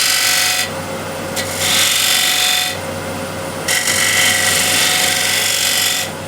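Wood turning on a lathe: a spindle gouge scrapes and hisses in repeated passes while cutting a cove, over a steady motor hum, close and fairly loud.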